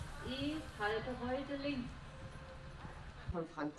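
Horse hooves clip-clop steadily during a dressage ride, fairly faint and largely under a voice speaking over them.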